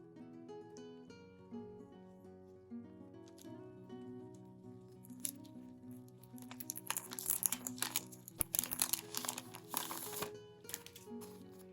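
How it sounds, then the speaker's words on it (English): Paper crumples and tears during crafting of a spring-themed DIY phone case kit. Soft music plays throughout, and crisp, crinkly bursts cluster through the second half. "I've heard the sound of paper tearing comforts most people."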